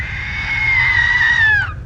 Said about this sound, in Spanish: Al momento se escuchó un chillido gusaniento.